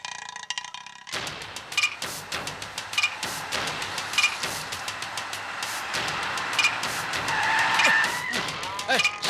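Car chase on a road, tyres skidding and squealing in repeated sharp bursts over a steady engine roar, with a voice calling out between them.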